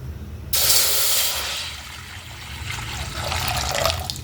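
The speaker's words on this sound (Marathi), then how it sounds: "मी एक पातेलं ठेवलं आहे गरम करायला त्यात पाणी टाकून घेणार आहे" Water splashes and hisses steadily into a metal cooking pot for rice, starting abruptly, easing off, then swelling again as the stream continues; no voices.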